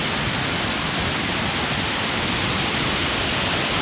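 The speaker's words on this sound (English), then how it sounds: "Top of this waterfall." Thunder River in the Grand Canyon plunges over a waterfall, heard from the top of the falls. The roar is loud, close and constant, a dense rushing hiss that stays steady for the whole few seconds, with no voices.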